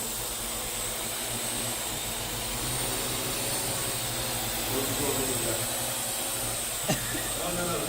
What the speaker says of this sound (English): So I can really just control this drone using just my right hand.